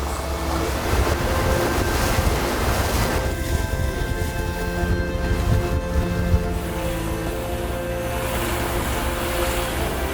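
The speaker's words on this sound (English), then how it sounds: "the sound of the ocean, the smooth, calm water" Steady rushing wash of ocean water heard from a super yacht at sunrise, a continuous broadband roar with a low engine-like hum beneath, loud and constant with no voices.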